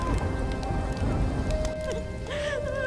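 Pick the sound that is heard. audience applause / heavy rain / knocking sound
heavy rain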